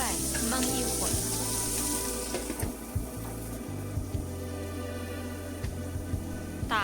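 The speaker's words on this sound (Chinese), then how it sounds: "盖上锅盖焖一会儿" Cured pork stir-fried with garlic sprouts sizzles steadily in a pan, a dense close crackle with scattered clinks of utensil or lid against the metal, continuous throughout.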